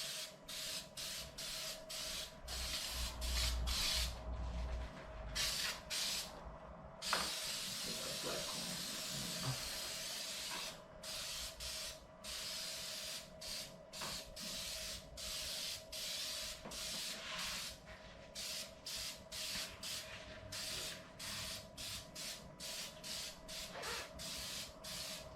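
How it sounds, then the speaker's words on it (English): Cleaner sprays in many short hissing bursts onto a car engine bay, closely and repeatedly, with one longer continuous spray partway through. "just spray it on."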